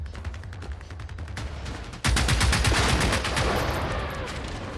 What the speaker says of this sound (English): We're just mag dumping.